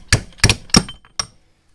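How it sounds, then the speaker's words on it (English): Four sharp metallic whacks, three quick ones then a last after a short pause, ringing briefly, as first gear is slammed along the main shaft like a slide hammer while disassembling a Willys jeep T90 transmission. "use first gear as a slide hammer"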